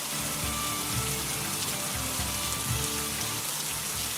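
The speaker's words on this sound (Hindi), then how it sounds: "अब ये बारिश भी इतनी जोर से हो रही है" Heavy rain pouring down steadily, a dense continuous hiss of drops striking surfaces with no voices over it.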